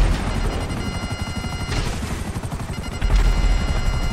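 Gunfire in GTA V, a heavy, continuous rattle of shots that runs unbroken and fairly loud throughout, with a slight swell near the end and no voices.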